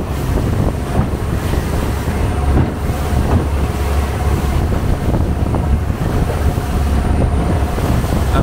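A river boat speeds along the Chao Phraya in Bangkok, its engine roaring and churning close and loud, with wind buffeting and water rushing over it continuously.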